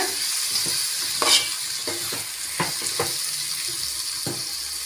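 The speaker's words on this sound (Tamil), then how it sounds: "மூணு தக்காளி சேர்த்துக்கலாம் கலந்து விட்டுக்கோங்க" Three tomatoes being stirred into ginger-garlic masala frying in a pan for chicken gravy, with a steady sizzle underneath and a few sharp spoon scrapes and clinks scattered throughout, close and alone without talk.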